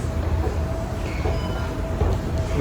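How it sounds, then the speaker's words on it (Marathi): A train at Jungfrau railway station in the Swiss Alps makes a steady close rumble of rolling carriages, with faint thin wheel squeals rising above the continuous noise. "इकडून आपल्याला ट्रेन भेटेल"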